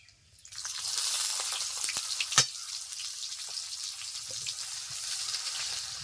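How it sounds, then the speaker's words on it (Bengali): Whole white cumin and chopped onion hit hot oil for a mustard-oil fish curry, bursting into a loud, steady sizzle after a brief quiet start, with one sharp clink of a utensil partway through. "তেল গরম হয়ে গেছে দিয়ে দিচ্ছি গোটা সাদা জিরে দিয়ে দিচ্ছি পেঁয়াজ কুচি"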